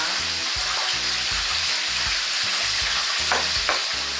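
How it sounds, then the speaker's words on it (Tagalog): Brine poured into a simmering mushroom sauce gives a loud, constant sizzle with bubbling and stirring sounds, running unbroken throughout and close to the pan. "we're going to put our brine to our mushroom sauce"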